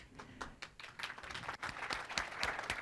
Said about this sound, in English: You're clapping, but I'm not done yet.